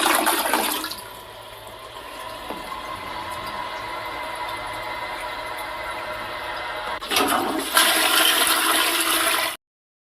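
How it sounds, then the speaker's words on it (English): A toilet flushing up close, opening with a loud rush of water, then settling into a long steady swirl and drain before a second surge of water near the end, with no voices. "We gotta flush it down the toilet."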